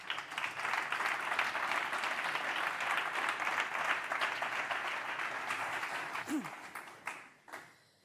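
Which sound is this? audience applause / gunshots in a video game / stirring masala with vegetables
audience applause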